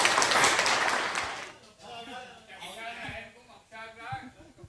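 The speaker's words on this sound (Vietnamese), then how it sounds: "vỗ tay thật lớn được cho anh Trịnh Sơn quý vị" Loud audience clapping for a guest singer at a live organ music performance, dense at first and then fading out as talk and a microphone voice take over.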